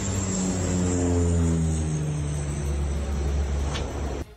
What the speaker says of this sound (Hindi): आग बुझाने के लिए विमान की मदद ली गई